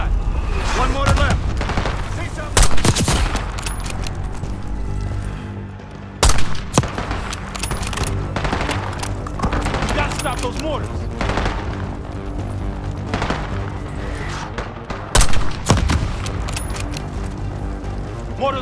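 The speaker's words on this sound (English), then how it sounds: "Snipers on the overpass! Mortar teams! Clear them out!" Gunfire and mortar blasts in the Call of Duty Black Ops 6 campaign mission Ground Control, with dense sustained shooting and several loud booming impacts at intervals, mixed with voices under the combat.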